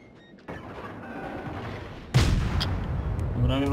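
Warship guns fire in World of Warships, an abrupt heavy boom, then a second, louder blast that rolls into a sustained roar, with smaller mechanical game sounds after it.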